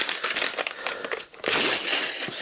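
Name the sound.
plastic toy bag being opened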